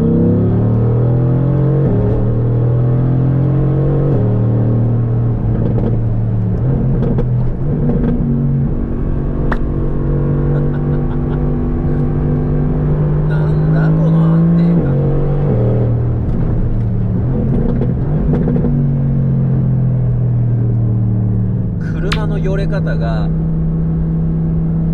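Mercedes-AMG GT R engine driven on a public road, its steady harmonic drone rising and falling in pitch as the gearbox automatically shifts down, loud and continuous throughout with someone talking over it.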